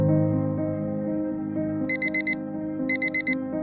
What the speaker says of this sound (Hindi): एक काम करता हूँ 4 बजे का अलार्म सेट कर देता हूँ